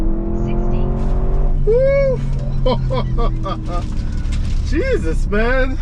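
A 2021 Audi SQ7 with roughly 500 horsepower roars through a hard full-throttle launch in a 0-60 run. The loud engine drone is steady under excited shouting from people in the car, and rising gear-change sweeps come through.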